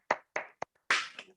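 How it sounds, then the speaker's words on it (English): A few scattered bursts of hand clapping from online seminar attendees, three short separate claps followed by a slightly longer, fuller patch of applause, all fairly faint. "If everyone could unmute and give a round of applause,"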